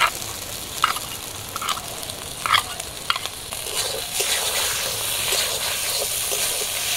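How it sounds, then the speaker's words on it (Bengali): Ground spices (chilli paste, cumin paste) fry in a pan outdoors with a steady sizzle and scattered stirring scrapes and clacks, wind noise underneath, no speech. "সব কিছু মশলা দেওয়ার পর কিছুক্ষণ ভাজা করে নেব"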